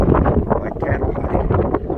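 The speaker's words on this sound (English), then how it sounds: "if it continues to be windy like this, I really don't like wind." Steady wind buffeting the microphone, a constant low rumble with gusty surges throughout, fairly loud and close.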